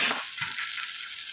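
Onion and other ingredients for a breadfruit thoran sauté in a pan with a bright, continuous sizzle, close and steady, with a couple of soft stirring scrapes at the start.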